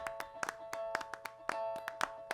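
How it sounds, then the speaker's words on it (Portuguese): Hand claps in a music mix, panned across the stereo field, land in a quick steady rhythm of sharp hits over a sustained tonal backing, with no voices. "Tem uma palma que está um pouco mais para a esquerda, a outra mais para a direita."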